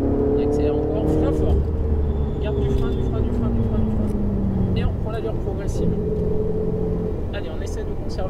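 A 670 hp Ferrari 488 GTB on the Circuit du Laquais track drones loudly, its engine note rising and shifting through the gears with a constant rumble, while someone talks over it throughout.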